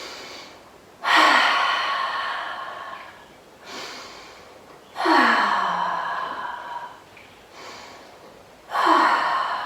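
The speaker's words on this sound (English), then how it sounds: "Take some deep breaths here." Three slow, deep breaths, each a long airy inhale or exhale that swells up suddenly and fades gradually, spaced a few seconds apart, close and clear with no talk, during a children's yoga stretch.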